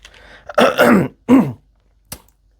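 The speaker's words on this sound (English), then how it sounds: "please pardon my cough, hence the tea" A person coughs and clears their throat in a quiet room, two rough rasping bursts close together, then a third, and a faint short click-like cough near the end.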